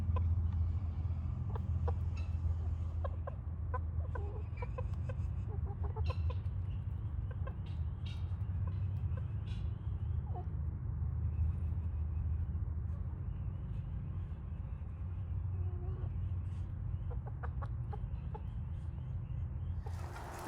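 Backyard chickens clucking steadily near a nest of eggs, with scattered short calls over a constant low rumble.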